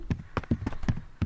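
Quick, hollow footsteps clop in an uneven patter in the video game Hello Neighbor 2, about six steps over a second, close and fairly loud, like hooves on a hard surface.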